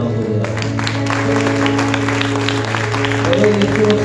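A church congregation claps their hands at a live meeting, producing steady rhythmic applause with music and voices in the background.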